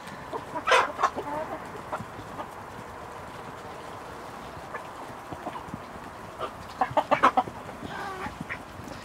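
Chickens cluck in two short bursts, near the start and again toward the end, over a quiet outdoor background.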